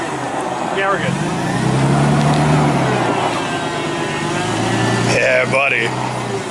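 A big forklift's engine chugs with a low, steady rumble close by, running continuously while people talk over it.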